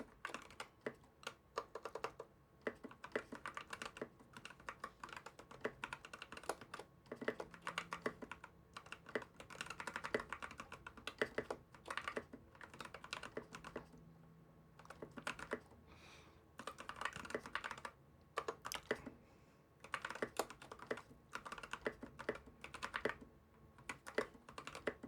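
Steady typing on a Gen 3 Freewrite keyboard, with irregular bursts of close key clicks and clacks running throughout without pause and no talking.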